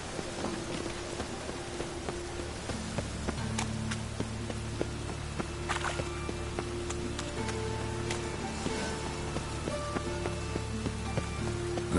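Steady rain falling on a surface, a continuous close wash of patter with scattered heavier drops, with a low hum underneath throughout and no voices.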